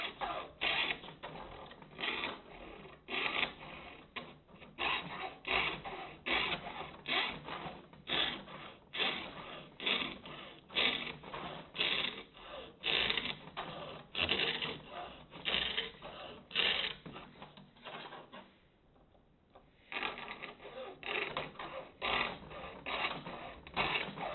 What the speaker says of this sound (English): I already got a hacksaw to cut it down.